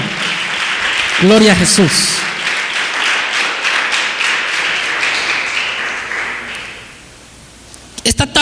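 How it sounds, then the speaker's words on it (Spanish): Church congregation claps for several seconds as a voice calls out over it, the applause thinning and fading away, followed by a few sharp taps at the very end. "Le damos un aplauso de gloria al Señor."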